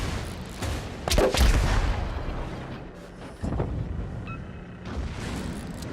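Naval gunfire in the World of Warships game: several heavy booming shots and blasts, with a strong burst early on and further thuds later over continuous background rumble.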